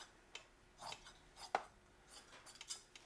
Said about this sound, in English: I'm going to cut that stitch edge off.